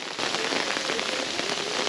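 Steady rain pours down on a surface in Cuba, a dense, even hiss of many drops close by with no pauses, heard alone.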